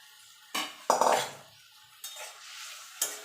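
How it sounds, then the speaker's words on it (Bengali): A spoon scraping and clinking in a pot as tomato, asafoetida and spices are stirred for a vegetarian moong dal, several short close stirring bursts separated by quiet gaps, with no talking. "এবার এইগুলো একটু ভালো করে নেড়ে চেড়ে নেব"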